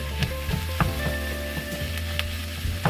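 Organic minced meat browns with softened onions in a pan, giving a close, steady sizzle broken by scattered clicks and scrapes of a utensil stirring, with no one talking.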